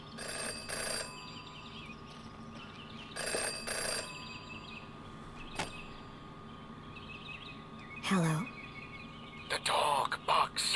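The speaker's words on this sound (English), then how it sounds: "Jenny had learned never to ignore a ringing phone." A telephone rings in the Jenny LeClue detective video game, with two bursts of ringing early on over low ambient game music, followed by a few sharp chirps and brief bird-like calls near the end.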